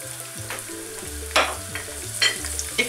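Carrots frying in sunflower oil in a wok, a soft steady sizzle with a few sharper bursts as they are stirred, partly under background music.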